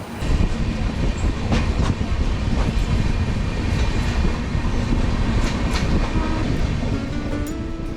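The 22202 Puri–Sealdah Duronto Express runs through the night, a loud, continuous rumble of wheels on rails with rhythmic clickety-clack heard from inside the carriage.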